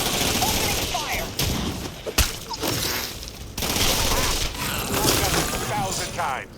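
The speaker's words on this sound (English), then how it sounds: "Opening fire!" Rapid bursts of automatic gunfire and sharp impacts in a Starfield firefight, loud and dense, with a brief heavier bang partway through and a voice speaking over the shooting.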